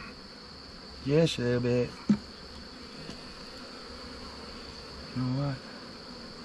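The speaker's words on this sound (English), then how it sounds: "Let's see how mean these bees are." Honey bees at an opened backyard hive during an inspection, with a few short, close buzzing bursts as individual bees fly past, over a low background hum. A person speaks quietly between the buzzes.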